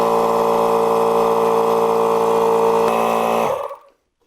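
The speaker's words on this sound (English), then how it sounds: "this one's gonna take a real compressor" An air compressor runs with a loud, steady droning hum while seating a stiff, high-volume bicycle tire on a carbon rim, then winds down and cuts off.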